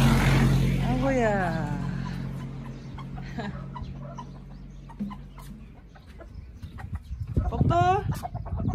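Hens cluck and squawk nearby while a person talks over them, with rustling and scattered farmyard noise in the background.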